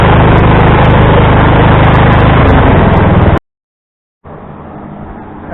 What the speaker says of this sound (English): We have a 48-inch single stage snow thrower and a Craftsman tractor.